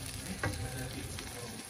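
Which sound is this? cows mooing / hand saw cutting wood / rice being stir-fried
rice being stir-fried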